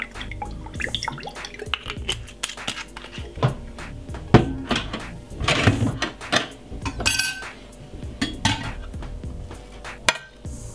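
A spoon working through brown rice salad dressed with dry chili and olive oil in a bowl, busy close clinks and scrapes in an uneven rhythm with a little wet shuffling and no talking.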